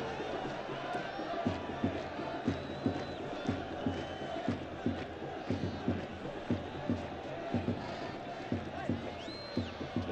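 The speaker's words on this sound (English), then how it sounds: "There seems to be something that's stirred the crowd up on the far side of the pitch this time." A football stadium crowd at an AFC Champions League group match between Air Force Club and Al Ittihad chants in a steady rhythmic pulse, with repeated beats and roaring voices spread across a large, reverberant space.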